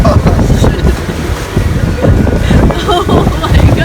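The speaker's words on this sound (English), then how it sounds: "We just got a huge wave! The splashed us all over the helm." A big wave crashing and splashing over the helm of a catamaran in rough seas, loud close rushing water amid heavy wind buffeting on the microphone, with voices speaking.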